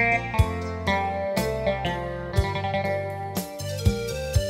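A Yamaha PSR-550 keyboard plays its guitar voice alone, with a run of plucked, picked notes and several louder struck attacks over a steady accompaniment, sounding close and clear.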